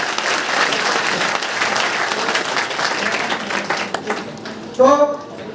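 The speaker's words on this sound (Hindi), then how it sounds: "अच्छा लग रहा है तो ताली बजा दीजिए" Audience applause at a village meeting program in Basti, steady crowd clapping filling most of the clip before thinning out near the end, with a voice briefly heard.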